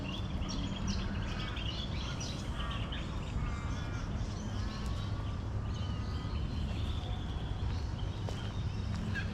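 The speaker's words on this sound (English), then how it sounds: "And the bird sound is really soothing here." Birds call and chirp at a distance over a steady wash of background noise, with scattered short calls throughout, at Tomato Lake in a residential area of Perth, Western Australia.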